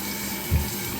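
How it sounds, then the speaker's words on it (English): Water from a tub spout runs steadily into a bathtub being checked for a leak, a constant hissing flow with a brief low splash partway through. "We'll put a little water on it, guys,"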